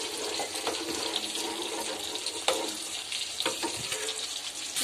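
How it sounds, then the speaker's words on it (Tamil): Tamarind water being stirred into a pan of spicy fish gravy gives a steady wet swishing and bubbling with a few soft clinks from the spoon, close and continuous throughout. "புளி தண்ணி சேர்த்து நல்லா கலக்கி"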